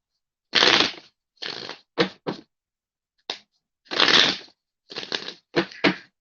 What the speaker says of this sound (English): These guys are getting a good shuffle today.